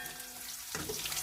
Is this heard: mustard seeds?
yes